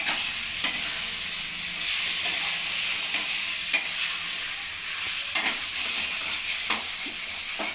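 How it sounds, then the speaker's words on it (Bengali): Chicken pieces fry with spices in a hot kadai for chicken pulao, giving a steady close sizzle broken by sharp scraping clicks from a spatula stirring the pan. "এবার চিকেনটা ভালোভাবে মশলার সাথে কষিয়ে নেব।"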